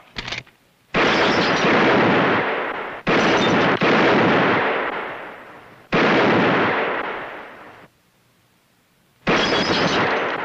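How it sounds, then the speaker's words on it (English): Loud, close gunshots in a shooting contest fire one after another, each sharp blast trailing into a long decaying echo, with gaps of quiet between several heavy reports. "Mighty good shooting, Charlie."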